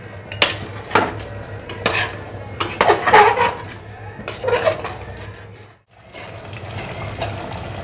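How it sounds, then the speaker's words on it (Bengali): Mutton bhuna gosht being stir-fried in a pan, with a spoon scraping and clattering against the metal in irregular bursts over a low steady hum, close and moderately loud. "দিয়ে এবার আমি ভালো করে কষাবো।"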